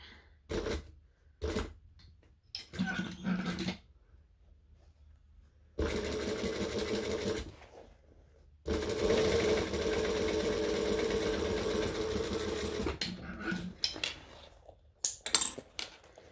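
A sewing machine stitches a handbag in close, loud bursts of rapid mechanical whirring, two long runs separated by pauses, with short stop-start spurts and handling clicks around them.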